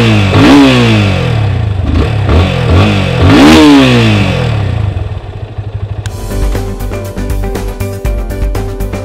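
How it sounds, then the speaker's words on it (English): A Yamaha Fazer 25 motorcycle engine revs loudly up close, its pitch climbing and falling in several blips before settling into a rough, clattering idle. "This motorcycle's sound isn't that great."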